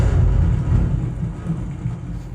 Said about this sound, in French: le tonnerre il prend vie quoi.